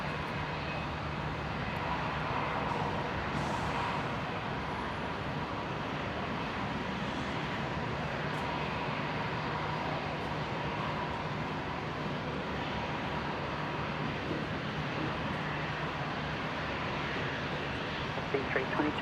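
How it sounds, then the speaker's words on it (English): China Eastern airliner taxiing toward the international terminal, a continuous distant jet-engine rumble and whine that holds steady throughout with no breaks. "Now we can see the China Eastern just making its way into the international terminal"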